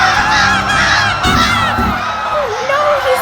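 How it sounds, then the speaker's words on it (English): A giant flock of cartoon crows attacks a man, a loud, dense mass of squawking and caws with scattered shouts, continuous and close throughout. "a giant flock of crows are now attacking him?"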